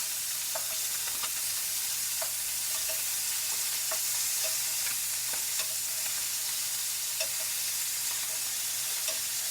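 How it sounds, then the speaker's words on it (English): Wet, previously frozen seafood sears loudly in a hot pan for risotto: a steady, dense sizzle close up, with scattered clicks of tongs and stirring throughout. "That's a beautiful sear right there."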